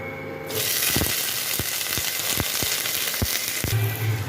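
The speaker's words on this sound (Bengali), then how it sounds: "একটু বেশি করে তেল দিয়ে ফুলকপিগুলোকে দিয়ে ভাজতে বসাই" Oil sizzles loudly and steadily as cauliflower pieces fry, with occasional sharp pops and spatters over the constant hiss.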